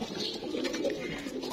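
Pigeons kept in a handmade loft cage give a soft, low coo, brief and faint against a quiet background.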